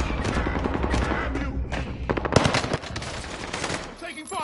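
Gunfire in a PS4 video game, loud dense machine-gun bursts with rapid crackling shots and a few heavier thumps, continuous up close.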